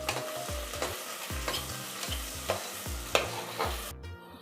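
Onions and curry leaves sauté in a pan for chicken drumstick curry, under a soft sizzle. A utensil scrapes and taps in a steady rhythm about twice a second, ending in a short, sharp clatter.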